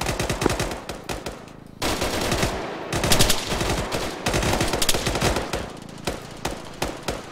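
Loud, close bursts of automatic machine-gun fire in a military video game, rapid rattling volleys that break off briefly and then resume repeatedly.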